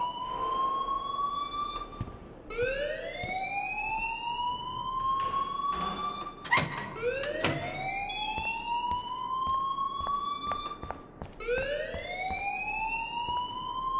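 An alarm from the Life is Strange video game sounds repeatedly, in loud rising siren-like sweeps. Several cycles come in sequence with brief gaps between them, and no one speaks over it.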